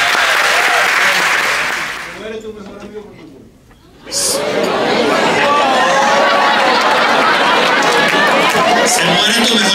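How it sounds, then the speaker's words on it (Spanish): A live audience breaks into loud applause and cheering, briefly dipping before swelling again into sustained clapping mixed with crowd chatter and some laughter. "Y un aplauso para ellos"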